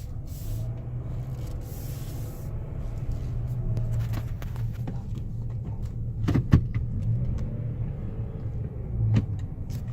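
A 2017 Nissan Frontier 2.5L four-cylinder King Cab pickup drives along, its low engine rumble and road noise steady inside the cab, with a few sharp clicks and knocks from the interior.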